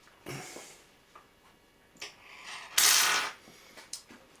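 A spanner working on a Dualit toaster, making several short metallic clicks and scrapes with brief pauses between them, close and fairly quiet.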